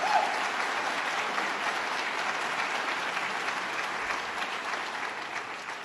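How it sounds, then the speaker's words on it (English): Sustained audience applause fills a hall during a State of the State address on Staten Island, a steady dense wash of clapping that holds at an even level throughout with no voices over it. "Let's give them a round of applause and say thank you."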